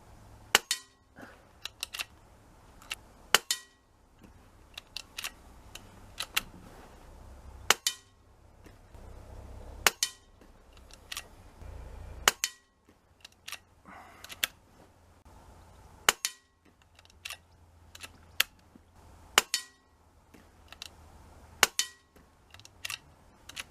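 Rifle shots fired one at a time while zeroing at 22 yards on an outdoor shooting range, sharp cracks spaced a few seconds apart with quiet gaps between them, moderately distant and without talk.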